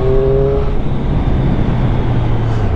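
An Aprilia RS 660 motorcycle is ridden along a road, its engine holding a steady, close drone with a low tone that eases slightly under whooshing wind noise.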